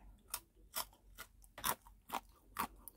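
Close, crisp crunching bites of crispy fried chicken in chicken tteokbokki, in a slow rhythm, about six distinct crackly chews with quiet pauses between.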